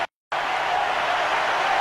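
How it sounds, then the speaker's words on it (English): After a brief cut to silence, a cricket stadium crowd applauds in a broad, steady roar of clapping and cheering that holds at an even level. "And the crowd erupts in applause."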